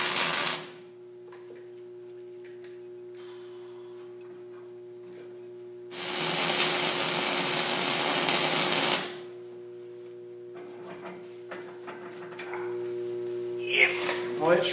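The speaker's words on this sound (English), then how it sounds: "start spot welding that thing in" Spot welding on a sweep plow hitch A-frame during repair: a steady loud burst of crackling buzz lasting about three seconds, with quieter shop hum before and after and a short sharper sizzle near the end.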